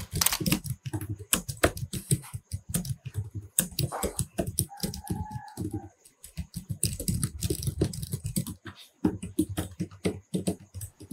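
Rapid typing on the keyboard of an Axioo gaming laptop with an Intel Core i7 13620H and RTX 3050, a dense run of soft close key clicks in an uneven rhythm, heard alone without talk.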